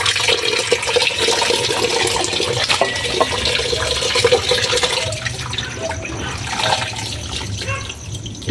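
Salted cabbage for kimchi is rinsed in water with steady splashing and sloshing, loud and close, continuing throughout with faint background voices.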